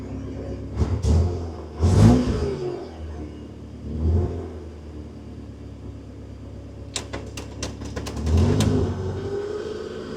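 The restored Honda Civic Nouva's engine idles roughly and revs in several short bursts, with a deep mechanical rumble swelling and fading up close, along with a few clicks and small knocks around it.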